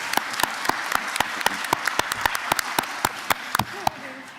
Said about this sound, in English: Let's give our color guard a round of applause.